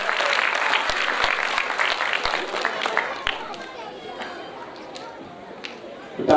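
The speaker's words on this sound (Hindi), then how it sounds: "फिर से बजाओ।" Children clap again in a group session, heard as a loud wash of applause with scattered sharp claps and chatter that tapers off to a quieter murmur with footsteps and voices.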